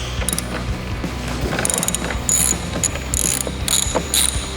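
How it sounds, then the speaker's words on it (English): A 1/2 inch ratchet backs screws out of a Harley touring fairing, giving close, rapid clicking in short bursts with no talk over it. "So this is gonna be a 1/2 inch. We'll go ahead and pull these guys out of here."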